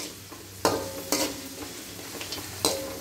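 Onions frying in a pan, a steady close sizzle broken by a few sharp scraping stirs of a spatula, with no talking.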